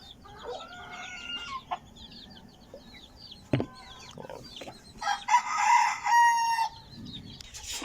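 Backyard chickens being fed honey-mixed feed, with a rooster crowing loudly nearby amid scattered clucks and rustling, the sounds coming in irregular bursts.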